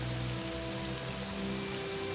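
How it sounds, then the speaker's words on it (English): Steady, even rain hiss from the video game Morrowind, a dense unbroken wash of falling drops with no pauses. "let's wait until the rain comes down, but no, it's even worse"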